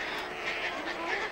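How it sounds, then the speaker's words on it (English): Great black-headed gulls, each about the size of a goose, calling in a breeding colony on a sandy Caspian island, a steady overlapping din of harsh squawks with no clear gaps. "The most spectacular of them are the great black-headed gulls."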